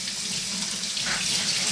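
Steady broadband rush of tap water running into a sink while a Scrub Daddy cleaning sponge is rinsed under slightly warm water, continuous and close with no talking.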